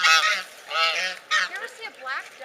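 Waterfowl at a river honk and call loudly in several repeated bursts close by, nasal and goose-like, with brief pauses between calls.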